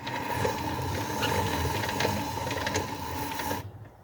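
A Landis leather splitter is hand-cranked while skiving leather, making a steady close mechanical whirring with faint ticking gear clicks that stops abruptly near the end.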